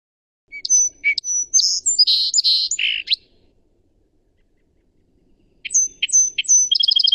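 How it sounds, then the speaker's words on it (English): A song sparrow sings close and clear: a bright run of whistles, buzzes and trills for about three seconds, a pause of near silence, then a second burst ending in a rapid trill. "our last bird of the summer is this song sparrow"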